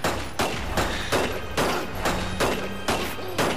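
A gun fires in the wizard game Magicka, with loud, heavy shots repeating at a steady rhythm roughly every half second, each one a sharp blast that rings into the next.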